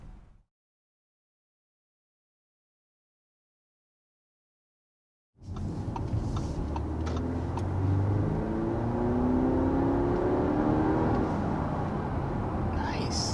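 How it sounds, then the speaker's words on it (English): A 2023 Audi A5 Sportback pulls hard up to about 60 mph after a stretch of silence, its engine note and road roar rising together, steady and close from inside the cabin. "There's a quick acceleration up to about 60-ish miles an hour with this A5 Sportback."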